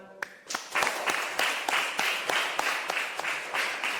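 Students at a university teacher-training presentation applaud, the clapping bursting in after a brief pause and settling into a loose rhythmic beat of sharp, distinct claps from a modest group nearby.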